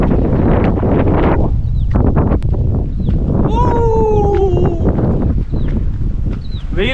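Strong wind buffets the microphone high on Rengamalai hill near Dindigul during a trek, a loud continuous rumbling roar with a brief voice-like tone partway through.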